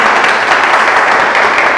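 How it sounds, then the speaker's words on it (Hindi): A training-session audience bursts into loud, continuous applause, a thick, even wash of clapping heard close and alone throughout. "एक जोरदार ताली से बताइए कि आप लोग यहीं पर हैं।"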